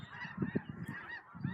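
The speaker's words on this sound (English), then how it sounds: "It's because there's more geese on that side." Geese flying in a V formation honk overhead, a cluster of several nasal honks in quick succession, fairly faint and distant, with no one talking.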